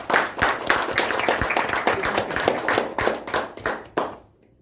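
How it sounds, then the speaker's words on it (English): Audience applause welcoming a Toastmaster at an L&T Kolkata Toastmasters Club meeting, dense steady clapping from a small group close by that thins into a few last claps and fades out. "please give big round of applause to welcome Toastmaster Sandeep"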